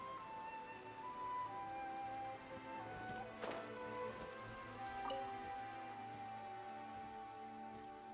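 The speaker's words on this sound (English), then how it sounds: "Nuvula, it's raining." Soft, steady rain patters continuously in the video game Genshin Impact, with faint sustained tones in the background and one brief louder splash partway through.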